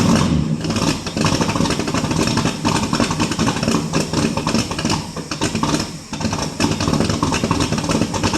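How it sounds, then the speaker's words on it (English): A 1967 Ford LTD with a 390FE engine, cold after sitting for 12 years, runs loud and rough the whole time with uneven throttle swells and a brief dip near the end. "Hold her on the floor and crank her again"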